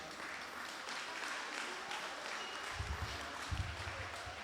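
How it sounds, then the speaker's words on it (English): Applause at the Yap Canoe Festival honours canoe race winners, a faint, distant patter of clapping from an outdoor crowd that holds steady and has a few low thumps near the end. "Once again, let's give them a round of applause."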